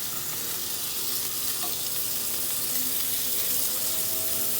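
A butterflied chicken breast frying in a pan, giving a loud, steady hiss and sizzle that holds evenly throughout, with no voices.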